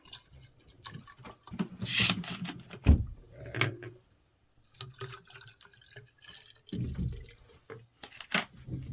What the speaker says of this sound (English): You take the Nalgene bottle and you put bourbon in it.